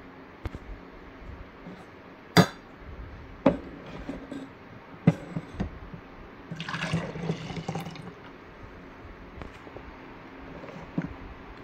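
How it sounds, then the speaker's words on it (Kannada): A mixer jar is rinsed with a little water: a few sharp knocks and clinks, then a short burst of pouring and sloshing water, followed by quieter handling sounds in a kitchen. "ಈಗ ಇದನ್ನೊಂದು ಚೂರು ನೀರು ಹಾಕಿ ವಾಶ್ ಮಾಡ್ಕೊಬರ್ತೀನಿ."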